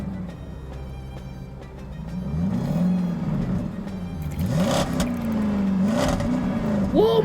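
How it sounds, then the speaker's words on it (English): A cartoon race car engine revs and whines with rising and falling pitch sweeps over a steady rumble, loud and close throughout, with brief voice-like bursts mixed in. "Whoa, McQueen, your engine shakes the place!"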